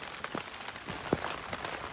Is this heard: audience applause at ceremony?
no